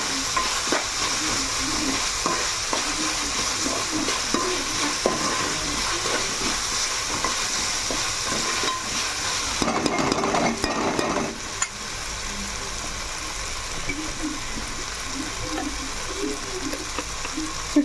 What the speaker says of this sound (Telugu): ఆనియన్స్ అనేది గోల్డ్ బ్రౌన్ కలర్ వచ్చినట్టు వేసుకోవాలండి